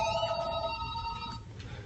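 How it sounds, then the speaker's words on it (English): A phone rings with a bright electronic tone that holds for over a second and then stops, loud and close, with a low background murmur and no talk. "My phone's ringing."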